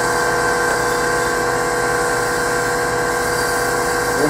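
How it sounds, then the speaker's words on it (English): Sandpaper hissing against a spinning wooden Christmas ornament on a lathe, a steady, loud abrasive whir over the motor's hum, continuous and unbroken. "Usually I'll change direction with each grip of sandpaper"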